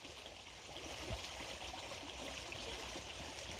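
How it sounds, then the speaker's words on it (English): A clear-water stream flowing steadily, a faint, continuous rushing and trickling heard up close with no speech over it. "we've got a lot more water coming to the stream here"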